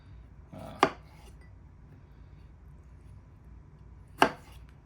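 A knife chops tomatoes, cilantro, celery, peppers and onions on a board in a quiet kitchen. Only two separate sharp chops sound, several seconds apart, with near silence between them.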